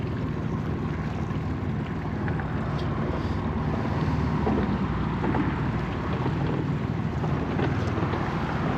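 A fishing boat idles slowly along bridge pilings, a steady low engine rumble mixed with wind buffeting the microphone, continuous and close without any voices.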